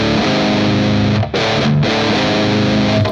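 Two heavily distorted electric guitars play a dense riff together in a song, loud and sustained with chugging low notes and a brief gap in the middle.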